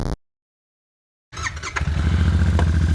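A stock Royal Enfield Himalayan motorcycle engine comes in after a short silence and settles into a steady, close, throbbing idle with a mechanical clatter on top.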